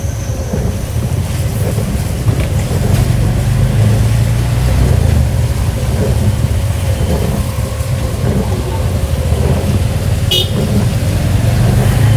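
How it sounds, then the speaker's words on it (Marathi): A long-distance travel bus approaches on a rainy road with its horn sounding, a loud continuous low engine and road rumble that swells over twelve seconds, with a short high horn toot near the end. "ट्रॅव्हल्स येते समोरून"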